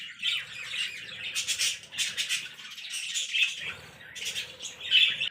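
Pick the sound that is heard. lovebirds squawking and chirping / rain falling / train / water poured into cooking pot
lovebirds squawking and chirping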